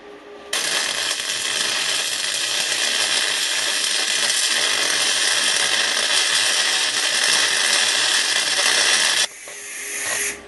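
R-Tech Pro-MIG250 MIG welder running 1.2mm wire at about 70% voltage on 16mm steel plate: a loud, steady crackling hiss that starts abruptly, holds for about nine seconds and then cuts off, with no talk.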